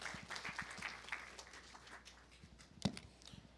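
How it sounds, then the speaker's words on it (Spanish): An audience at a campus induction course in a room applauds for an introduced speaker, a patter of scattered claps that thins out, with one sharp loud knock or bump near the end. "Un fuerte aplauso para el señor Víctor Ruz"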